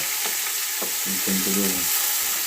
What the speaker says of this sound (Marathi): आणि कांदो आता आपण चांगलं परतून घेतलो.